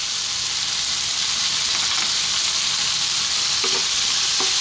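Pumpkin fried rice with salt and black pepper, stir-fried hard over high heat in a hot pan, giving a steady, loud, close sizzle and frying hiss with faint scraping as it is kept moving.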